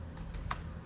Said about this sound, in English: typing in the move command,